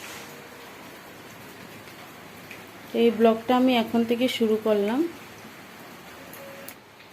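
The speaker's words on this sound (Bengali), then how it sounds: "এইভাবেই সকাল থেকে বৃষ্টি পড়ছে।" Steady rain falls outside as a continuous soft hiss through the whole scene, while someone speaks briefly in the middle.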